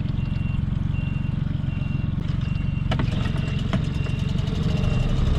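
A boat motor runs with a steady, close, throbbing drone throughout, with a faint high whine on top and a few short clicks near the end.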